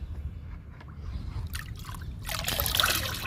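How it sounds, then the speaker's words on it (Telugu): Liquid plant fertilizer made from dal, chana husk, tea powder and egg powder being mixed, heard as a close trickling and splashing that grows louder toward the end, with no talk. "ఇప్పుడు లిక్విడ్ని కలుపుకుందాము"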